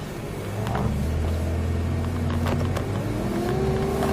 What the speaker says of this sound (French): Tu accélères légèrement et on est parti pour 2 tours.